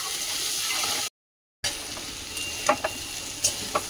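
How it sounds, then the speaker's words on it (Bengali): Bottle gourd fries in hot mustard oil with bay leaf, dried chilli, curry leaves, mustard seeds and cumin, giving a steady close sizzle that breaks off briefly, then returns with scattered stirring scrapes and crackles. "লাউটা একটু ভেজে নিচ্ছি হালকা"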